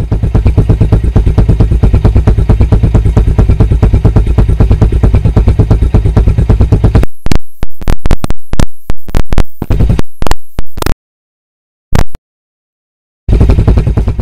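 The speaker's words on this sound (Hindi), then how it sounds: "अब मैं करूँगा क्या, इसको सीधे एग्जॉस्ट के पास ले जाऊँगा और तब मैं रेव करूँगा, तब आप फील करना कि ये कितना लाउड है।" Bajaj Platina motorcycle exhaust revved hard with the microphone right at the muffler, a loud, dense roar for about seven seconds, then choppy bursts broken by dropouts and brief silences.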